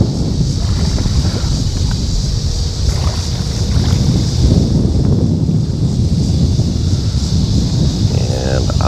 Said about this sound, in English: That wind is really tough to deal with right now.